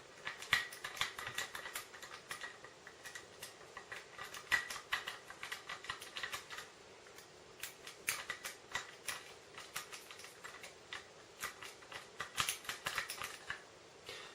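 The rotating tripod mount collar of a Canon EF 100-400mm L IS II lens is unscrewed by hand: a close, irregular run of small dry clicks, ticks and gritty scraping bursts over about fourteen seconds.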